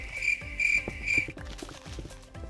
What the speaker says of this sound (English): I actually probably will change out the cricket sound for a different sound